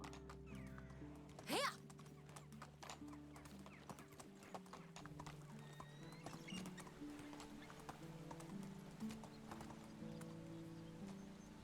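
Donkey hooves walk steadily over ground in the medieval game Medieval Dynasty, a soft, quiet, continuous clip-clop over low sustained background tones.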